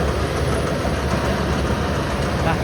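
A DC-105X diesel engine with a widened intake is revved high toward its rev limiter, a loud, steady, rough drone that holds without a break for the short stretch.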